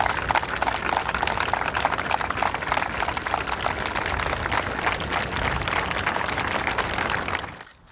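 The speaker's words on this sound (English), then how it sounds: "applause from the hundreds who'd come to say farewell to a comedy great" Hundreds of funeral mourners at New York Stadium applaud as the cortege for a comedy great arrives, a dense, sustained roar of clapping that fades out at the very end.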